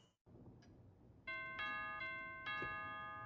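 A doorbell chimes from a television drama, sounding as a two-tone ding-dong and then again, bright ringing tones that decay slowly over a low background hum.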